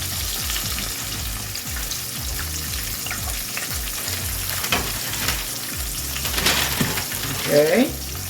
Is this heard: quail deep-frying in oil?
yes